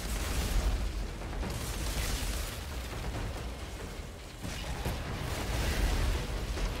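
In the Outriders shooter video game, a submachine gun fitted with the Volcanic Eruption mod sets off explosions and lava effects, a dense stream of rumbling booms and bursts at moderate loudness with no speech.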